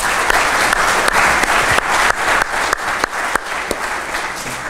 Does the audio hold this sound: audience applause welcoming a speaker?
yes